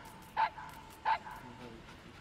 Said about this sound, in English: Oh, TD, stop whimpering